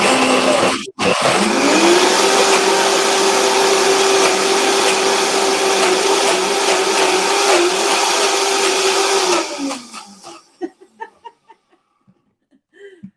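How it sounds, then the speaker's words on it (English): A blender whirls a cheesy sauce for about nine seconds, a loud steady motor whine with a sharp click at the start, then spins down into quiet with faint laughter and small sounds after. "I'm gonna whirl it up and we get a blender dance."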